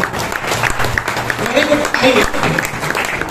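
A crowd claps steadily in applause, a dense wash of hand claps with some voices mixed in underneath.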